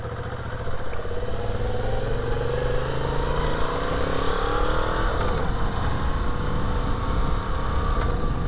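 A Moto Guzzi V7 motorcycle being ridden and opened up, its engine note climbing steadily through the gears with wind rush, loud and close throughout.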